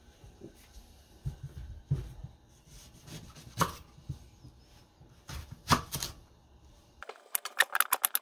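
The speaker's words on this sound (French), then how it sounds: "On va commencer par couper nos poireaux et les blanchir." A knife chops leeks on a cutting board in a home kitchen while sausages are being made, with sharp, sparse taps ringing close and quiet, then a faster run of lighter clicks at the end.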